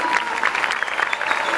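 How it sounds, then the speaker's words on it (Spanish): Brief applause from an audience at a Tierra Caliente music event, a short burst of steady clapping heard at moderate level. "Y el aplauso a todos estos guaches."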